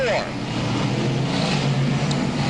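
Race cars circling the turns at Albany-Saratoga Speedway, a steady, loud engine roar that holds throughout, with a voice talking over it.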